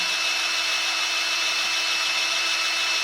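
A cutting tool machines down a Chevy inline-six roller lifter, giving a steady, loud, high-pitched whirring grind that runs continuously without a break and without any voices.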